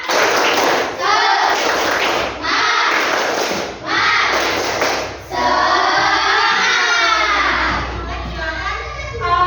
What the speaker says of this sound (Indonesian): oke, satu kali tepuk semangat.